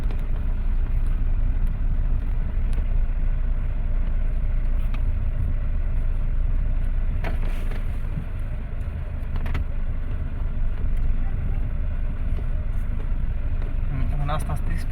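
A car's engine drones steadily and close during a driving test, with the motor held at an even level throughout and voices talking over it at times.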